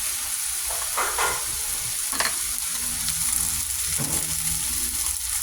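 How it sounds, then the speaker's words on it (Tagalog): Onion and tomato, with eggplant already in, sizzling steadily in a hot pan, close and continuous, with occasional scrapes and stirs breaking through the crackle. "Lagay natin yung sibuyas. Lagay na rin natin yung kamatis dito sa isang kilo."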